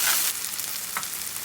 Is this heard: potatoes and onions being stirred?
yes